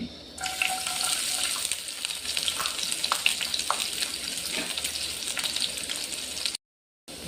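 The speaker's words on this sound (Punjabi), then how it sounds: "ਲਸਣ ਨੂੰ ਆਪਾਂ ਚੰਗੀ ਤਰ੍ਹਾਂ ਭੁੰਨਾਂਗੇ ਜੀ ਤਾਂ ਜੋ ਲਸਣ ਕੱਚਾ ਨਾ ਰਹੇ" Finely chopped garlic and green chilli fry in hot mustard oil, giving a continuous close crackle and hiss with scattered sharper pops and a brief stir, ending with a short silence before the sound returns.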